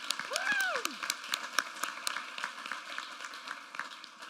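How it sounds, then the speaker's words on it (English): At a startup event, an audience applauds founders and sponsors with scattered, moderate clapping, while a voice or tonal sweep rises early on and distinct claps continue sparsely to the end. "let's give all the founders and sponsors a big round of applause"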